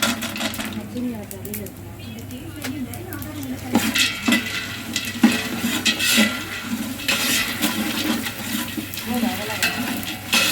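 Cumin seeds and dried chillies are stirred in a frying pan for a festival free-food offering, with repeated metallic scrapes and clinks over a faint sizzle, close by, while a person talks.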